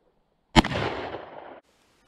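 A single loud magnum revolver shot rings out, a sharp crack followed by a roughly one-second rolling echo outdoors, with no talking.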